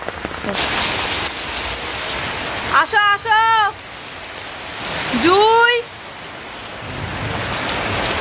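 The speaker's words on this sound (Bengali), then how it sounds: "আমি রাস্তা হাঁটতে এসে দেখি যে ধাকাশ করে বৃষ্টি এসছে" Heavy pouring rain on a morning, a loud dense steady roar of drops on surfaces filling the whole stretch, while voices briefly call out twice over it.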